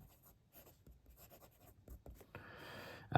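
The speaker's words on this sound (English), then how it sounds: "Let's do a writing sample now with the Benu." A Benu Mojito fountain pen with a steel Schmidt medium nib writes on paper, giving soft, close scratching strokes in short bursts, and a louder sliding scrape comes near the end.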